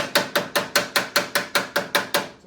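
Aluminum sheet is hammered over a buck to form a smooth corner radius on a 1959 Ferrari 250 TR/LM replica body. Eleven sharp, evenly spaced blows land about five per second, each ringing briefly, close up with no talking.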